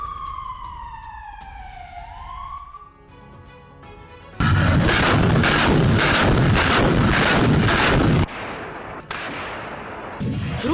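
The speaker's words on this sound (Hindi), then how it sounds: "यूक्रेनी एयर डिफेंस सिस्टम से ताबड़तोड़ फायरिंग की गई।" A Ukrainian air defence system fires in sustained, rapid rhythmic bursts, loud and pounding for several seconds, preceded by a wailing siren and followed by more scattered firing.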